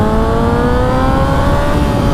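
A Honda CBR sport bike engine hums loud and close while riding, holding a steady drone with slowly rising pitch.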